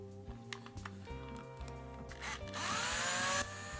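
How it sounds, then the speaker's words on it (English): A power drill bores into a tubular lock held in a guide jig, starting with short stuttering bursts and then winding up into a loud, steady grinding whine near the end. "now let's drill this with a jig"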